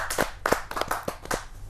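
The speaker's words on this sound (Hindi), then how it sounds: "जोरदार ताली" Audience clapping at a Hindi poetry gathering: a short burst of distinct, fairly close hand claps in an uneven rhythm, moderately loud, with no talking.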